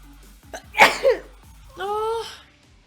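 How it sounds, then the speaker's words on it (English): A person lets out a high-pitched spontaneous sneeze: a sharp inhaled catch, then a loud burst, followed by a voiced sound with clear harmonics. It is close and fairly loud in a quiet room. "Oh, I got to sneeze again."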